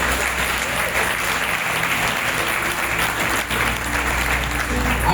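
A congregation at a charismatic Catholic spirit-life seminar bursts into sustained, dense applause, steady and loud throughout with a faint crowd murmur beneath.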